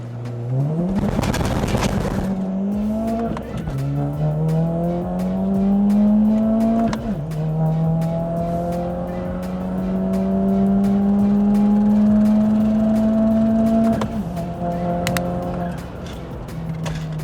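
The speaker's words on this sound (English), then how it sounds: "So for our first drag race of the day, we lined up against an M135i BMW." Turbocharged VW Scirocco 1.4 TSI launching in a drag race against a BMW M135i, a loud burst of tire spin and squeal at the start, then the engine revving hard through rising gear pulls with brief shift dips, close and dominant throughout.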